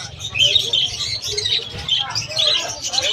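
Hagoromo parakeets chirp and twitter in quick, overlapping bursts at a pet market in Malabon, close and fairly loud, with low background bustle underneath.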